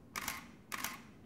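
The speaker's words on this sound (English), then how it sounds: "that was the mirror moving up and the shutter inside opening" A DSLR camera with its lens removed fires twice, each shot a crisp mechanical clack of the mirror flipping up and the shutter opening, close by and alone against quiet room tone.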